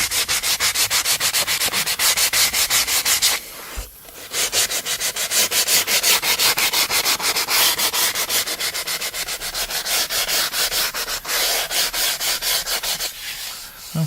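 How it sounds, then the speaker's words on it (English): Steady, rhythmic sanding strokes rasp back and forth on the stile and rail edges of a wooden door, loud and close, with a brief pause partway through before the scrubbing resumes. "Okay, we've got our edges all nice and sanded."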